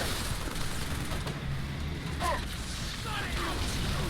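Halo 3 combat on Tsavo Highway: continuous gunfire from a vehicle-mounted gun rattles steadily throughout, mixed with mechanical noise and a voice talking over it.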